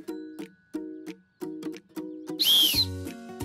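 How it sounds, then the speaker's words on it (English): A lifeguard whistle gives one shrill, piercing blast partway through, following a series of short, evenly spaced tonal notes. "It's a lifeguard whistle."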